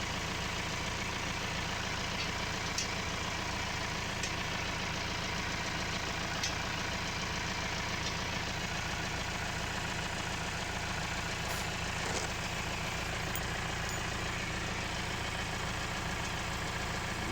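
Tuned Roxor engine idling steadily, a low continuous rumble with an even, unchanging level throughout and a few faint clicks on top, no voices.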